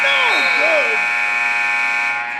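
An arena buzzer ends the first half of an NBA game between the Indiana Pacers and Brooklyn Nets, a loud sustained electronic blare that holds steady and then fades, with a commentator's voice sliding over its start.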